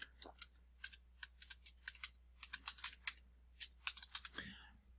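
Rapid clicking keystrokes on a computer keyboard as a teacher's name is typed, close and crisp in quick uneven bursts against a quiet room.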